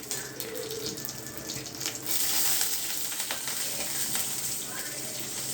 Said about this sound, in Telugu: ఇలా మంచిగా ఫ్రై అవ్వనివ్వాలి